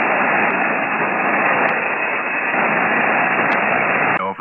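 Steady loud hiss of amateur HF radio static on a live antenna test after the station's signal drops out, unbroken for several seconds with a brief shift at the very end.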